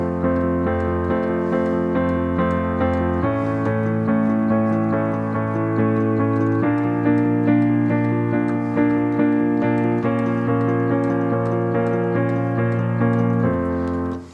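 A piano plays the accompaniment to a song at full tempo through the second verse, with driving bass-line chords held in steady, sustained changes. It is loud and alone and ends with a short fade.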